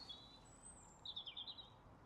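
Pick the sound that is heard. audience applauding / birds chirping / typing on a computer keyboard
birds chirping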